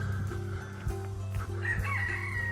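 Chickens at a countryside farm-animal attraction in Bedfordshire, with a rooster crowing and hens clucking nearby, steady and clear against a low background hum.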